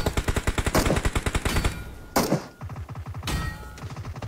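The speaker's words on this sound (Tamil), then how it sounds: "ரேண்டமா ஃபயர் பண்ணிட்டேங்க" Rapid automatic gunfire in the battle royale mobile game BGMI, loud close bursts of evenly spaced shots with brief pauses between volleys and a few sharper single blasts.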